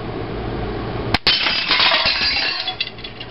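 A homemade coil gun fires a larger projectile into a glass bottle, giving a sharp snap followed by a bright crash of breaking glass and scattered tinkling fragments settling over the next two seconds.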